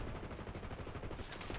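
Rapid automatic gunfire in the shooter game Call of Duty: Black Ops 6, a quick rattling burst of shots that is faint and low in level.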